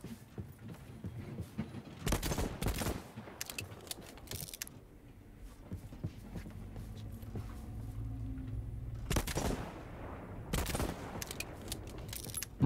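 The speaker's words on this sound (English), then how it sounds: "More shooting, at least." Gunfire in the video game Voidtrain comes as a few short bursts of broadband shots separated by quieter stretches of low engine-like rumble, fairly close with no talking.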